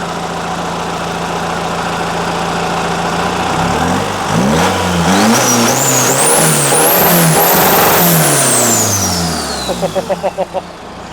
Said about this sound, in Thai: โอ้ เร่งเร่งให้ฟังนิดนึงพี่